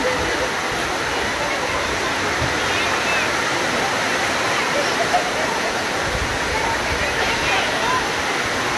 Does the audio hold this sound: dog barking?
no